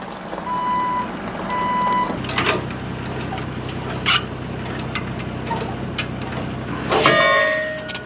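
A truck with a 6.0 engine reverses, its backup alarm beeping in a steady repeating pattern over the rumbling engine, with a few metallic clanks along the way.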